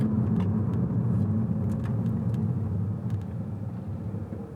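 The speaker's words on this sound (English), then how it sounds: "Look at the traffic." Road traffic backed up after an accident, a steady low rumble of car engines heard from inside a vehicle, continuous and fairly close, with faint ticks and clicks over it.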